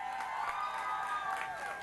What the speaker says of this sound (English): Ms. Susan Sarandon, let's give her a round of applause, please.